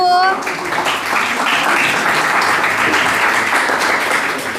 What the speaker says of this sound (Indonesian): beri tepuk tangan untuk kelompok 7